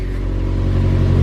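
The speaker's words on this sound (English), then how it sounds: "The Cobb exhaust sounds fucking tits" A 2018 Subaru STI with a Cobb exhaust and Process West manifold, its engine rumbling loud and close and building slightly in a short rev, no talk.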